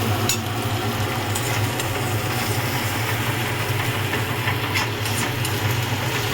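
Eggs being stirred in a hot pan, a continuous close frying hiss with soft scraping and a few sharper clicks of the utensil against the pan.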